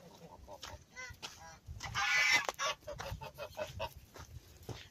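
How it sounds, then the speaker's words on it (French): A brooding mother hen sitting on chicken eggs gives agitated, honking clucks and squawks, close and fairly loud, with one harsh burst in the middle and no speech. "c'est celle-là, la mère qui couve les œufs de poule"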